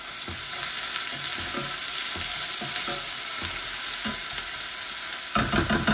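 Onions sizzling in oil in a pan as they are stirred, with a steady frying hiss and soft scraping strokes at an irregular rhythm, a louder burst of stirring near the end, no voices.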